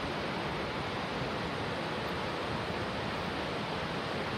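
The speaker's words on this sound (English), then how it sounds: "That is raging waterfall." Raging mountain waterfall beside a trail, a constant loud broadband roar of rushing water with no other sounds or voices.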